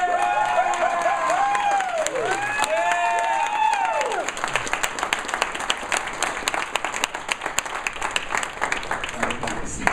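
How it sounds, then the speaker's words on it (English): Audience applause rises for students from Jefferson County at a talk on race, steady broadband clapping for ten seconds while a voice with a whistling, sliding tone sounds over it early on. "can I just ask for applause for the students who..."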